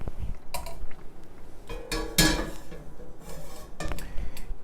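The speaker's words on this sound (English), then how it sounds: "now it's time to strain our stock, and we'll just do that into a smaller" Stock being strained through a metal chinois into a smaller saucepan: scattered clinks and knocks of metal cookware, a few sharp clatters among softer handling noises, close by with no talk.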